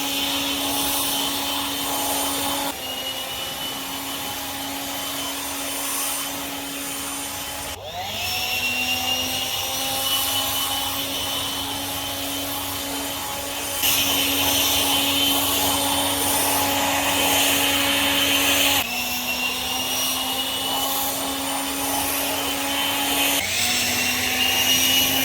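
A DeWalt 60-volt leaf blower runs steadily for a long stretch, its loud whining hum rising and dropping in pitch as it is throttled and moved while clearing leaves, with no talking.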